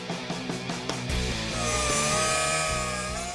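A power saw cuts around a welded tube on the cowl of a '72 Nova, a steady loud grinding buzz that starts after a few short bursts and then runs on unbroken.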